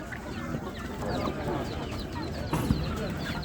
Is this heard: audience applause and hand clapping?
no